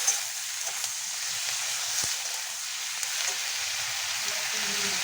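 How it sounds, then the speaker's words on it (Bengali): Onion and tomatoes fry in a pan for butter paneer, giving a steady, close, hissing sizzle with a few small ticks and one sharp clink partway through. "একটু হালকা ভেজে নিচ্ছি, পেঁয়াজটা হালকা ভাজবো।"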